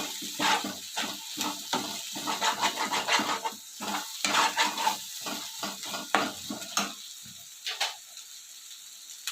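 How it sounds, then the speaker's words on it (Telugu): Tomatoes frying in a pan with ginger-garlic paste for a country crab curry, a steady sizzle broken by repeated scraping stirs in an uneven rhythm, close and fairly loud with no talk. "అల్లం వెల్లుల్లి పేస్ట్ కూడా వేగింది టమాటీలు అయితే వేసుకుందాం"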